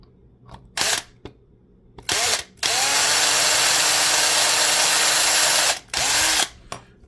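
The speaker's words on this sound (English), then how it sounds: "And you'll know it's deep enough just by the drill when you go down." An electric drill boring a hole whines close by: a few short on-off bursts, then one long sustained run of about three seconds, followed by two more brief pulses.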